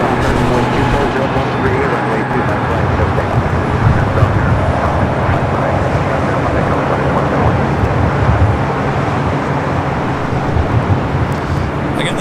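A Boeing 787-10 Dreamliner arrives at LAX from Tokyo Haneda, a continuous loud engine rumble and rushing noise holding steady, with wind buffeting and a voice talking over it.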